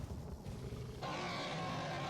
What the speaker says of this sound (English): That was a cool roar.